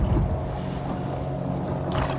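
A boat out on the lake at Maithon, with a steady low engine rumble blended with wind buffeting and water wash, loud and continuous throughout.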